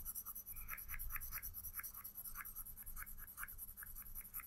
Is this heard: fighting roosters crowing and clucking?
no